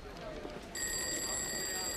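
An old-fashioned office telephone in a 1940s newsroom setting starts ringing partway through, a steady bright bell tone over a murmuring room background.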